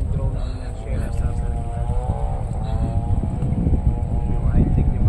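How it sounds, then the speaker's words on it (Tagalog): Drone taking off and flying near a small island, a loud steady propeller whine with rising and shifting motor tones over a rumbling wind-like background, with people talking underneath. "So, palipad na tayo ng drone."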